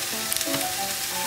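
Deodeok root grilling over low heat in a pan, giving a steady close hiss of sizzling with faint crackles, with no talking.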